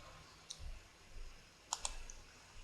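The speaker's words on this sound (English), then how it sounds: "by pressing right mouse button click, let's search normal map." Computer mouse button clicks while working in Material Maker 3D texturing software, a single faint click followed by a quick pair of clicks, close and quiet over low room hiss with no talking.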